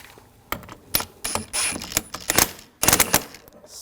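A wrench works on the nut of a 2006-2009 Audi S4 windshield wiper transmission, producing a close series of sharp metallic clicks and ratcheting taps in irregular bursts.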